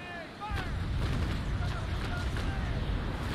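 Cannon shots from a sailing warship in Naval Action strike at the waterline as a low, rumbling roar with dull booms, all under wind and water noise.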